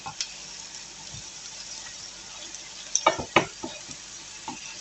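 A homemade hamburger patty sizzles steadily on a grill, a soft continuous hiss broken by a few sharp pops and crackles near the middle.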